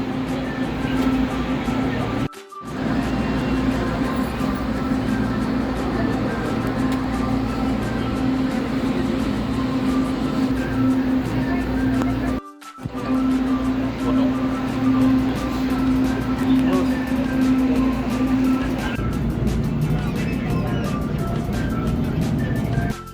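A commuter train bound for Recto, leaving Katipunan station, rumbles steadily along the rails with a sustained low hum and droning tone, interrupted by two brief cuts, ongoing throughout.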